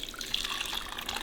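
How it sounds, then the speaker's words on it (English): Hot water poured into a Thai tea filter bag, a brief, soft, steady trickling and splashing stream of liquid, close by with no talk. "Now I'm going to pour in the Thai tea filter in this bag."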